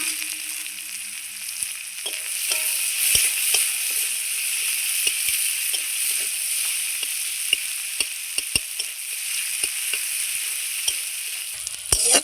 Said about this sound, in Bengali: এবার আমি ওই তেলে দিয়ে দিচ্ছি আমি পেঁয়াজ কুচানো